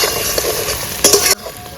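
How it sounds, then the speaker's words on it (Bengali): Tomatoes sizzling and frying in a pan while being stirred for a pomfret curry, a close, loud steady sizzle with scraping stir strokes, the last stroke ending abruptly. "টমেটোগুলো যতক্ষণ অবধি না গলে ততক্ষণ অবধি নাড়িয়ে যাব।"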